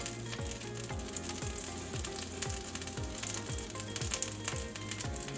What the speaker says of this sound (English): now I'm going to ladle down our pancakes.